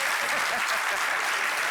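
An audience applauds a guest named on a French-language talk show, dense steady clapping sustained throughout at fairly close range.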